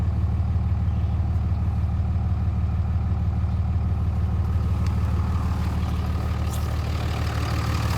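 A third-generation Cummins diesel pickup with 257,000 miles idles steadily, a deep continuous low rumble with even exhaust pulsing, close and unchanging throughout with no other sounds.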